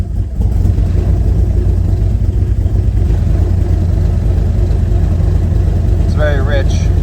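A 1997 Eclipse GSX engine runs rich and idles roughly on E85 after a speed-density conversion, a loud steady low rumble heard close up, with a brief squeal near the end.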